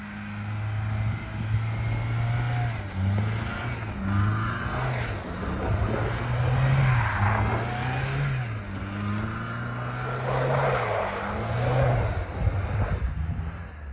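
A 1997 Toyota RAV4 with a Torsen limited-slip rear differential revs and wavers as it circles continuously, pitch rising and falling with each turn, loud and close with tire and gravel noise.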